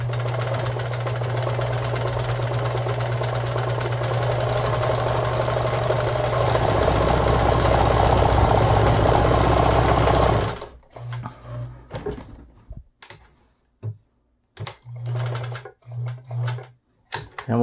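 A Meister 76 programmatic sewing machine stitches a narrow zigzag at stitch length 2, a steady loud rapid mechanical whir running continuously for about ten seconds, then stopping into short intermittent bursts and clicks.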